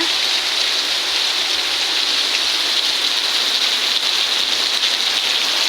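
Steady, dense rain pours down without pause, a continuous hiss of drops striking surfaces nearby with no voices.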